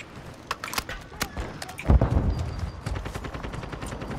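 Rapid gunfire in Call of Duty: Modern Warfare, sharp cracks and bursts of shots at uneven intervals with a heavier, louder volley in the middle, set against low background game noise.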